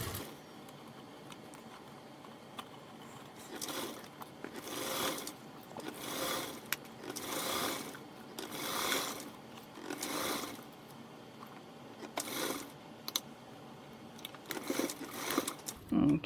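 A sewing machine basts a narrow seam on a convertible duffle bag, running in repeated short bursts of rapid stitching with pauses between, fairly faint and close, with a little quiet talk.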